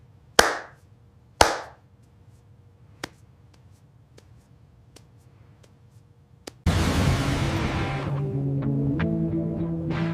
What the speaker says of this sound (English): Clap softer, listen harder.